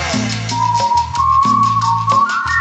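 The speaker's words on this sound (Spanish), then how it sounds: "Así chiflaba." A sustained, fairly loud whistled tone that holds steady and then slides slightly upward, heard over a rhythmic, repeating musical backing from a sonidero dance performance in Gualupita, Toluca.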